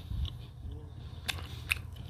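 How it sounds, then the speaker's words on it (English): Someone bites into Popeyes chicken nuggets and chews, with two crisp crunchy bites standing out over soft, close mouth sounds, no talking. "here's the nuggets, and I will try them right now."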